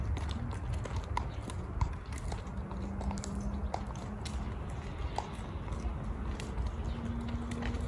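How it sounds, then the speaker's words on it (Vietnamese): Three horses carrying riders walk back across an open field, their hooves clip-clopping in a steady, unhurried rhythm against a constant outdoor background. "Đây có ba con chúa cưỡi ngựa về nữa nè"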